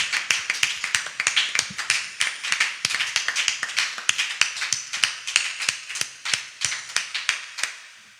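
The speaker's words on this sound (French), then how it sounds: "est-ce que nous pouvons également applaudir pour les personnes qui nous suivent en ligne" A church congregation at a fire prayer marathon applauds in a steady run of sharp, closely spaced claps, strong and rhythmic for several seconds before tapering off, with no speech over it.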